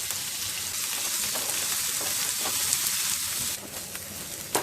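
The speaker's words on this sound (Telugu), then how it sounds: "జీలకర్ర వేగిన తర్వాత ఉల్లిపాయ ముక్కలు, పచ్చిమిరపకాయ ముక్కలు వేసి వేయించుకోవాలి." Onion and green chilli pieces frying in a pan for paneer bhurji, giving a steady, dense sizzle close up with a slight drop in intensity near the end.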